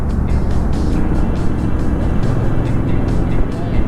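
Close, steady engine drone and road rush as a Bajaj Pulsar motorcycle moves along a road during a group ride, a continuous loud roar with faint rhythmic pulsing.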